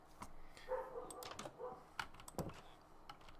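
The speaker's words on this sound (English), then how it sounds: "Why is my dog barking?" A dog barks several times in the background, short sharp yaps scattered over keyboard typing and faint room noise, fairly quiet and not close to the microphone.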